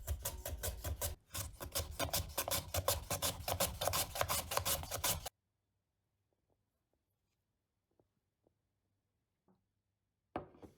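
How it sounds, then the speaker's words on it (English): Three fresh cucumbers are grated into fine strips: fast, rhythmic rasping strokes close by for about five seconds, then near silence with a few faint clicks and one more short rasp at the end. "Next, I grate 3 fresh cucumbers. I also grate them into fine strips."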